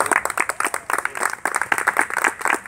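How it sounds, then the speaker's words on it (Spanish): An audience applauds at an outdoor public forum in a city plaza, a short burst of brisk, uneven clapping from a modest crowd. "Un aplauso más fuerte para la candidata que ha venido, ha participado."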